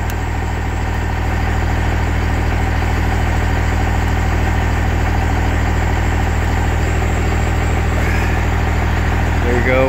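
A truck engine with a 5-inch straight exhaust and no muffler idles loudly and steadily, a deep continuous rumble up close that holds without change throughout.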